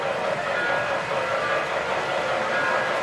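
A model train circles a Christmas train garden set up beside a Christmas tree in a living room, giving a steady mechanical rolling hum with faint whistle-like tones that keeps going the whole time, close and even.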